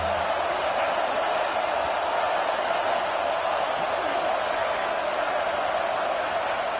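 Football stadium crowd roaring steadily in support of the defense on a third down, a dense, continuous wall of cheering and noise throughout with no clear pauses.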